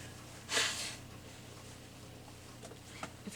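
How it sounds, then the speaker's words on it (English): A short, forceful nasal blast from someone with a sinus infection lasts about half a second, followed by quieter sniffling and faint rustling in a quiet room. "Blow my nose real quick."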